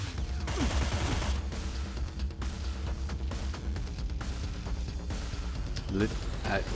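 Full-auto gunfire rattles in the tactical game Cyber Knights: Flashpoint, a dense, continuous stream of bursts and impacts with sharper cracks near the end.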